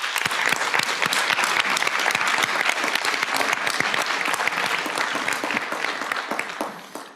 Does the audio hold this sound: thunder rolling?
no